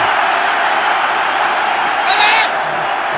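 A crowd at an India vs Pakistan Test cricket match in Chennai cheers in a broad, sustained roar, with a brief louder whoop rising near the end.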